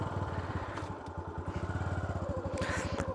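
A motorcycle pulls away on a weekend ride near a hilltop Shiva temple, its engine a close, loud, rapid thumping putter that holds steady, then rises slightly as it moves off.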